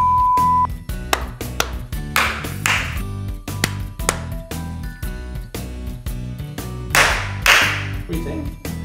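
Sharp hand claps for syncing multicam audio and video, a series of irregular snaps spread across a background music bed with tonal pings, several claps louder and closer than others.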